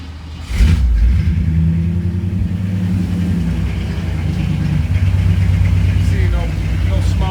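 A 1959 Cadillac Coupe DeVille cranks briefly and catches on a cold start, then settles into a loud, steady low rumble of idling V8 with slight rises in revs, close by, with voices speaking over it.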